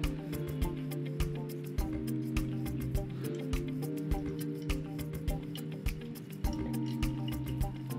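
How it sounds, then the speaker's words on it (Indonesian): Steady drips tick at an irregular pace over a low hum, as hot water trickles through a paper coffee filter nearby; no voices. "ini gunanya kita siram pakai air panas supaya bahan-bahan kimianya hilang"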